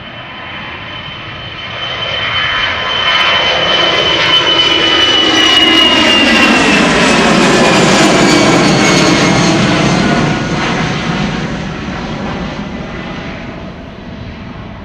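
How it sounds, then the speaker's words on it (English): An Airbus A330-200 jet departs Schiphol Airport bound for Kigali, its engine roar swelling to a loud, broad rumble with a whining tone and then slowly fading as it passes, heard from the ground. "A330-200 outbound to Kigali."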